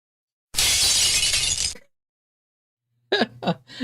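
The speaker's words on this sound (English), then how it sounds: "There's them sounds that you can get where your window smashed." A window-smash sound effect of breaking glass: one loud, bright crash with sustained tinkling for about a second, followed by silence, then a few short vocal noises close by.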